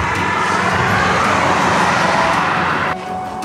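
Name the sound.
cars passing on the road beside the Camino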